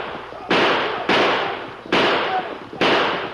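Gunshots in an old-time radio western drama, four loud, sharp blasts spaced roughly evenly, each with a long decaying tail, with no talk over them.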